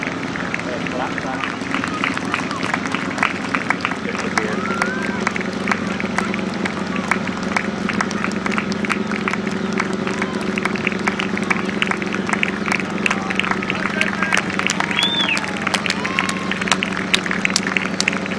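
Scattered applause from spectators at a British Masters grasstrack qualifier race, a steady clatter of clapping with crowd noise beneath and an engine drone running throughout.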